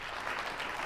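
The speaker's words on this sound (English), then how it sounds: "You can keep clapping." Dense, continuous applause fills a live charity auction room, a steady wash of many hands clapping at moderate distance with no break.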